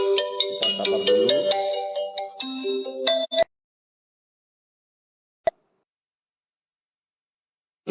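A phone ringtone plays a bright melodic electronic tune for about three seconds and then cuts off, followed by silence with a couple of faint clicks.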